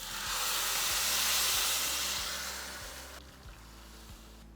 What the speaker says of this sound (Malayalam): എന്നിട്ട് തിളച്ച വെള്ളം ഒഴിക്കാം. തിളച്ച വെള്ളം 2 കപ്പ്.